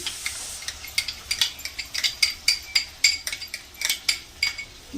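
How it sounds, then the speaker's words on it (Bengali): A spoon scrapes and clinks against a pan as spice paste of cumin, melon seeds and cashews is stirred in for dahi katla, giving rhythmic metallic taps roughly twice a second over a faint sizzle. "দিয়ে ভালো করে নাড়িয়ে চাড়িয়ে নেব।"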